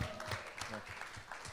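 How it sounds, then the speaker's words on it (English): Audience applause at a live product launch event for Veet Men grooming products: a brief, faint, dense patter of clapping with a hint of voices underneath. "Round of applause for that, ladies and gentlemen"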